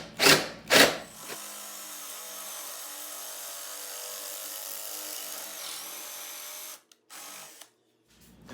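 A drill bores into a wooden board while making a coffee pod holder: two short bursts first, then one long, steady whine of the bit cutting through, close by and alone.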